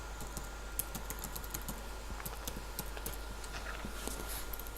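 Rapid clicking of keys on a computer keyboard as a password is typed, quiet and steady over a constant low hum, with no voices.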